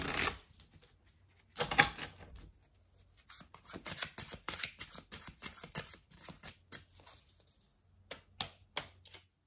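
Tarot cards are shuffled and drawn for a love reading, with a sharp riffle followed by soft, quick flicking and slapping of cards in irregular bursts, close and quiet.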